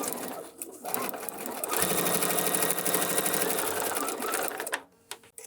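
A sewing machine stitches fabric for foundation paper piecing, a steady rapid mechanical whir running close for several seconds before slowing and stopping.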